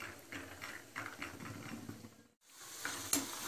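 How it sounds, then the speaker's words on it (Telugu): Peanuts fry and rattle in two spoons of oil in a pan for pulihora, a soft crackling sizzle with gentle stirring scrapes, faint and close, broken by a brief silent gap before a final clink. "అందులో 2 స్పూన్స్ ఆయిల్ వేసుకొని పల్లీలు వేసేసుకోవాలి"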